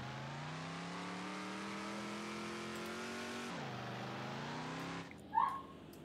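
Engine of a car in the video game Ranch Simulator, revving steadily with rising pitch, then dropping sharply as gears shift before cutting out, followed by a short knock.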